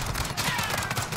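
Rapid gunfire fills a short stretch of Call of Duty: Modern Warfare gameplay, a dense fusillade of overlapping shots that stays loud and steady throughout with no clear gaps.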